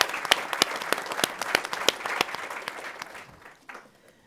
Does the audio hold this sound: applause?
yes